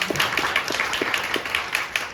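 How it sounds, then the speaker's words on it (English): Scattered audience clapping at a business talk on B2B sales negotiation, a thin round of hand claps coming through fairly quietly, moderately near. "let's give a round of applause"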